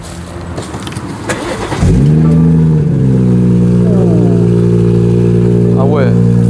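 A BMW M240i engine is pushed to high revs and held there, a loud, steady, strained roar that swells briefly again near the end.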